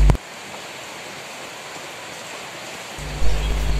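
Steady rain hisses evenly in an Indonesian home, and a deeper rumbling swell joins in near the end.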